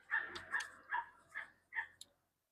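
A dog barks five times in quick, evenly spaced bursts, fairly close, with nothing else around it.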